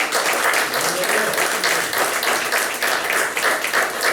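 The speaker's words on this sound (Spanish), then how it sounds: "Denle un aplauso al Señor." A church congregation claps together during a sermon on discipleship, a sustained, even wash of applause with faint voices underneath.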